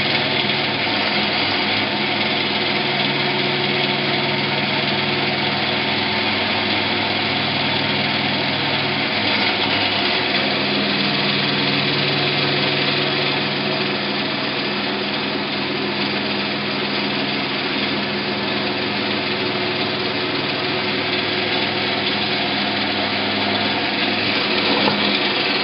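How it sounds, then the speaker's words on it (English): A drill boring a hole through a drill jig down to a depth stop while making a cable drum, running as a steady, continuous motor whine at close range for the whole stretch, with no talking. "Then I'm going to go ahead and drill the hole."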